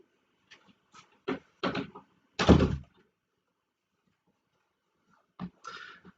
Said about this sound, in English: I'm just going to close the door because my family's arrived home,